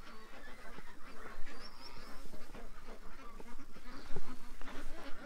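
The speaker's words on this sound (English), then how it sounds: "I just heard some Canada geese." Canada geese honk repeatedly in a noisy outdoor setting, the calls overlapping and irregular, moderately close amid rustling and background clatter.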